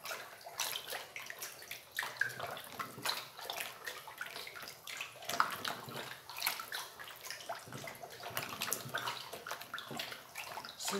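Homemade liquid soap made with two and a half litres of used cooking oil being stirred in a large batch, a steady wet sloshing and swishing with irregular pulses, close and fairly quiet, with no talk.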